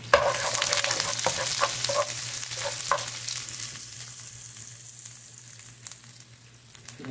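Sliced onions hit a hot pan with cuttlefish, setting off a loud crackling sizzle with a few scraping stirs. The frying gradually settles into a softer hiss over a low steady hum.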